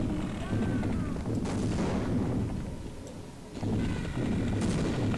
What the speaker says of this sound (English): I'm just gonna use my grenades on you